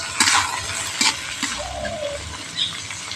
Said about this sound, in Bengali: গাজরটা প্রথমে ভেজে নিচ্ছি